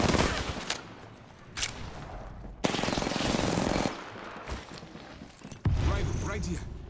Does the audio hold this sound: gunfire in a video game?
yes